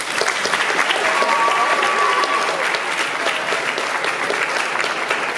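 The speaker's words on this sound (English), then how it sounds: "Give these three a round of applause, please." Steady applause from a school honors assembly audience for the top science students, dense clapping that holds evenly for several seconds.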